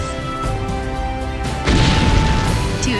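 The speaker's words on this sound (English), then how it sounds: "At 15:48, the German fleet finally started firing cannons." Naval cannons firing from the German fleet at the Battle of Jutland, a heavy deep boom that swells at about the midpoint and rolls on loudly over a steady dense background.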